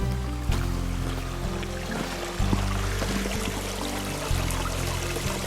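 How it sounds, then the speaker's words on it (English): A small creek in the Ozark Mountains in winter, its water rushing and trickling steadily and fairly close, with a low steady hum underneath and no talk. "Very nice little creek."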